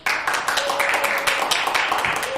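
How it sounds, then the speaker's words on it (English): After a poetry reading, the audience breaks into a round of applause, a dense burst of clapping that starts abruptly and holds steady at close range. "Let's give another round of applause."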